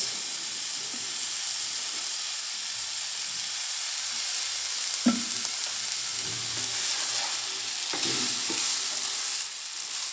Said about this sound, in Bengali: আমি এখন দিয়ে দিচ্ছি 1 টেবিল চামচ সয়া সস